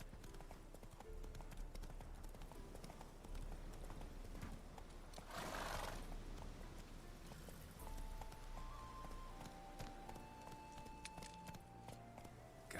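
Geralt's horse Roach in The Witcher 3 runs with steady, close hoofbeats and gives a brief whinny, while soft tonal game music plays underneath.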